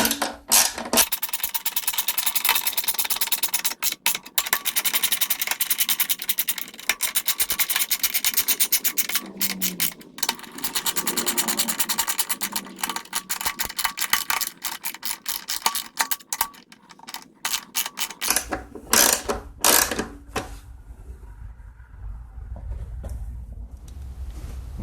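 Three 5/16 nuts are being tightened by hand to refit the fuel tank on a 2002 Craftsman Tecumseh 4.25 HP engine, giving close, dense bursts of ratcheting, scraping and metallic clicking that trail off near the end, with no talking.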